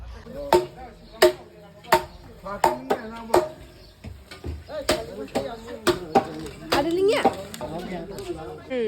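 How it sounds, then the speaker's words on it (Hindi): Sharp, regular knife or cleaver chops into meat on a board during wedding meal preparation, sounding close and fairly loud, with a busier flurry of blows toward the end and people talking in the background. "उधर अभी मीट बना जहाँ पे काट रहा है"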